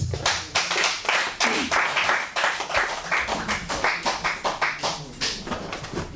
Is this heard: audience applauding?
yes